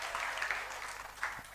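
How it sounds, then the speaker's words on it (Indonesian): Church congregation applauding the pastor's wife during a sermon, a short burst of faint, even clapping from many hands, heard from some distance. "Kasih tepuk tangan buat Ibu Gembala."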